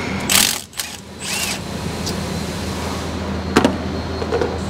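Ratchet loosening 16 mm brake caliper bolts on a Ford Super Duty truck, a few quick clicking bursts and metallic mechanism sounds over a steady background hum, close and moderately loud.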